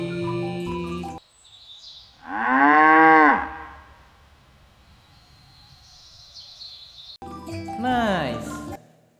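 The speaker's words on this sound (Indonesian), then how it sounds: "Muncullah seekor sapi." A cow gives a loud, drawn-out moo, then after a quiet stretch a second long moo follows, with short musical tones around both calls.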